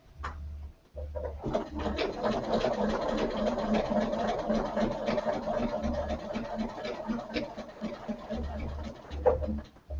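A Bernina sewing machine runs steadily for most of the stretch while quilting a stitch-in-the-ditch seam, its rapid needle chatter continuous and close, with a brief stop near the start and soft low thumps underneath.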